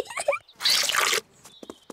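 Cartoon soap poured into a bucket of water, a dense liquid splash and gush lasting about half a second, loud and close, followed by a few small drips, with a voice speaking just before.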